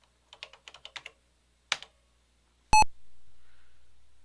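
Quick bursts of clicky keystrokes on a computer keyboard during work on a retro computer Drivewire cable setup, then a single isolated tap, followed by a sharp electronic beep and a fading hum, close and quiet with no talking.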